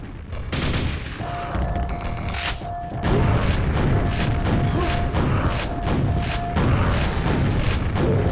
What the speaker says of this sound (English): I get hit by so many grenades, it's insane.